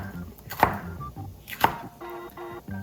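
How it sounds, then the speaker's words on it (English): A knife cutting a tomato into thin slices on a board, two distinct chopping strokes followed by quicker lighter cuts, close and clear with no talking. "So the way we cut the tomato, you're just gonna cut into thin slices like that."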